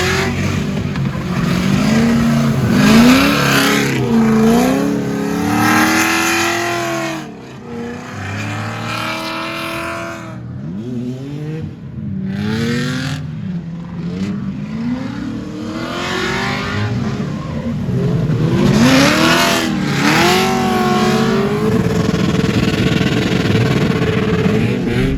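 A turbocharged Scion FR-S driven hard on a race track, engine revving up and down through gear changes with a loud, rising and falling howl, close and continuous for the whole lap section.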